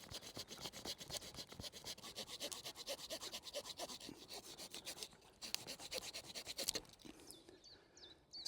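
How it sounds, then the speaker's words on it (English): A hand saw cuts into resin-rich fatwood with a rapid, steady rasping stroke rhythm, fairly quiet and close, slowing and stopping near the end. "This is not the best saw for the job, to be honest, but in a pinch it will do it."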